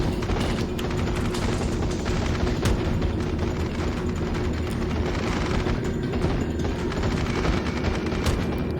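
Anti-aircraft guns on a World of Warships vessel fire at aircraft in a dense, unbroken rattle of rapid shots with occasional heavier thuds, steady and loud throughout, with no talking.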